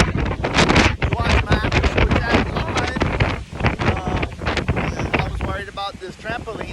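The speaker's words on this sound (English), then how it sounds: "now the wind is still blowing, we're not over it yet" Gusty hurricane wind from Hurricane Francine in Lockport, Louisiana buffets the microphone in loud, rough surges, with a person talking over it throughout.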